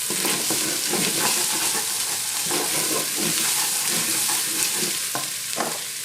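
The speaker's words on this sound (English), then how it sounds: "Let me stir." Ground coriander and ginger are stirred in a pot for lentil soup, a close, steady frying sizzle with rhythmic scraping strokes of a spoon across the base, no talking.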